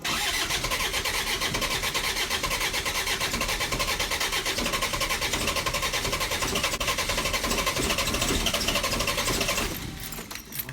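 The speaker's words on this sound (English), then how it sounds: "Wait for the glow plugs to warm, the light to go out. Try starting." Cold Land Rover Freelander diesel engine cranking on a start attempt after the glow plugs warm, a loud, rapid, steady rhythmic churning for nearly ten seconds that cuts off abruptly without catching.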